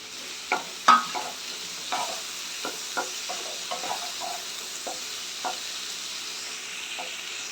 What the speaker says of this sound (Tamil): தக்காளி வதங்கிட்டு இருக்கட்டும்